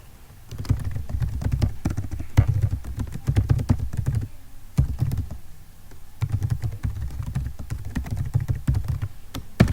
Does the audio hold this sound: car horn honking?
no